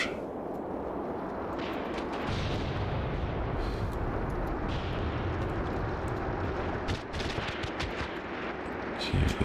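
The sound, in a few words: gunfire in video game Graviteam Tactics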